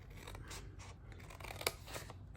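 Scissors snip through paper along a score line in a steady series of close, crisp cuts, one sharp click standing out near the end over a faint background hum.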